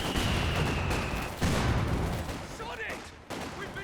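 M1919 machine gun fire in Company of Heroes 2 rattles amid dense battle noise of gunfire and blasts, continuous and loud throughout, with a voice talking over the action.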